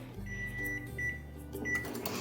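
A microwave oven runs on a short express cook while apple roses bake inside: a steady low electrical hum with faint, intermittent higher tones above it. Nobody speaks.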